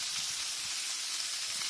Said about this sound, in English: It's sizzling and searing and making all the right noises that you'd expect from a barbecue.